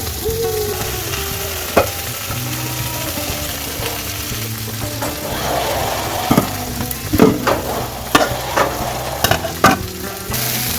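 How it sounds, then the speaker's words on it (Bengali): Okra and potatoes fry in a pan, with a constant sizzle beneath repeated scraping and stirring knocks that sharpen toward the end; no one speaks. "ঢেঁড়স আলু অনেক ভাজা হয়ে গেছে"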